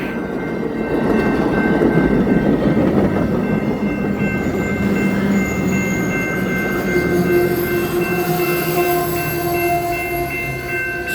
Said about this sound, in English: Nope, it's Amtrak.